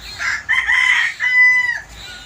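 A rooster crows nearby, loud and drawn out in two rising-and-falling phrases, with quiet surroundings.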